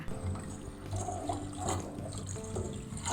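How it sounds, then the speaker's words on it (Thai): Holy basil leaves are rinsed under running water, a steady moderate splashing stream that runs nearby with slight shifts in flow throughout. "เราไปล้างน้ำทำความสะอาดกันค่ะ"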